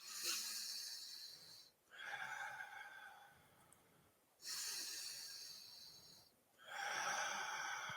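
Deep, slow breaths during respiratory muscle training for asthma, heard as four quiet, close, airy inhales and exhales separated by short pauses, with a slight wheezy hiss.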